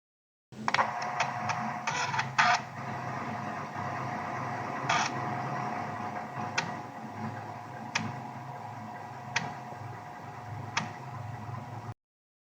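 A PC floppy disk drive formats a disk, giving a burst of rapid clicks at the start followed by a steady whirring hum punctuated by single ticks every second or so, quiet and close.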